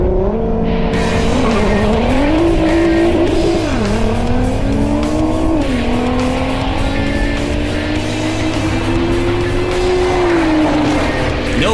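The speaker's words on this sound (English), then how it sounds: "Now it's time for a drag race, head-to-head style." Cobb-tuned Nissan GTR and Techart Porsche GT3 launching side by side in a drag race, engines roaring loud and close with rising, shifting revs through several gear changes, and a touch of tire squeal, no talking.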